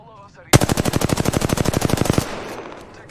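R-301 rifle in the Apex Legends video game firing a sustained automatic burst of about twenty evenly spaced sharp shots, loud and close, then a decaying tail.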